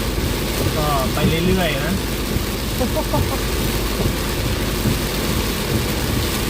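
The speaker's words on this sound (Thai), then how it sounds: "แรงจริงเมืองขอนแก่นฝนตกแรงจริง" Heavy storm rain lashes a car driving through Khon Kaen, a dense, continuous roar of water on the vehicle with road and engine rumble beneath and someone speaking briefly over it.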